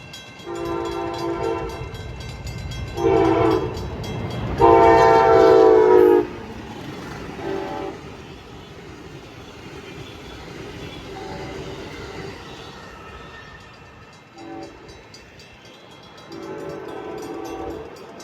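A BNSF train horn sounds in several long, loud blasts as the train rumbles past steadily on Union Pacific rails in Pacific, Missouri, continuing through the whole stretch.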